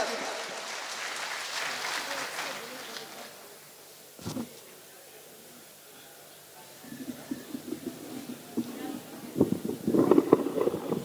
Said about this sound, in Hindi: जोरदार तालियां विभा सिंह।